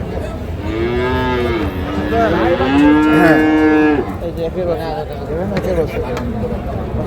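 Dairy cows and calves of a local breed at a farm in Narayanganj and Bhola moo loudly and repeatedly at close range, with people talking around them.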